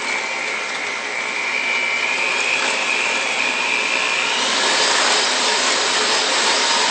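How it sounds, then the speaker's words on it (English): Electric mixer creaming a chocolate cake mixture, a loud steady motor whir that climbs in pitch and intensity partway through as the speed is turned up. "You can turn your mixer up a little bit just to help out, get it going a little faster"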